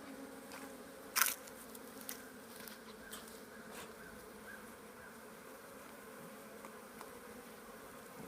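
Honeybees from a freshly installed package buzz around the hive in a steady, soft, close drone, with a brief louder burst as one passes near; no talk.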